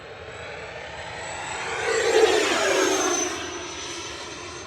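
A twin 70mm ducted-fan FMS Su-27 radio-control jet flies past at full throttle, a steady whooshing turbine-like roar that swells as it passes closest, then eases off, with no talking.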